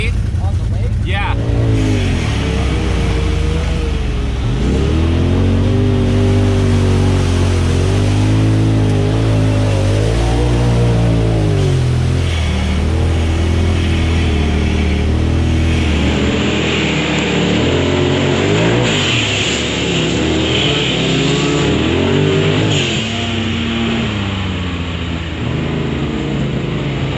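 Two-wheel-drive CF Moto 800 side-by-side driving a difficult off-road trail, its engine droning and revving up and down continuously close by, with people talking over the motor throughout.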